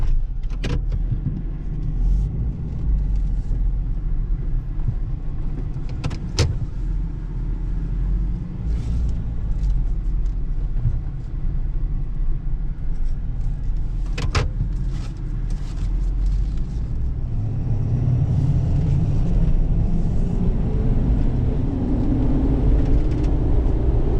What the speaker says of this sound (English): The turbo kicking in sounds, whew, it's just music to the ear